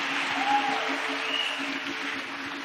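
A church congregation applauds during a testimony service, a steady wash of clapping from many hands that holds for a few seconds without pause.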